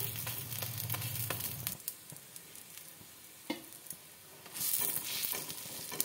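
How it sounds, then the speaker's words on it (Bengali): Pumpkin flower fritters fry in oil, a soft sizzling hiss broken by scrapes and stirring clatter, with a quieter stretch midway before the sizzle swells again; fairly faint and close, no voices. "আমার ফুলগুলো ভাজা হয়ে গেছে"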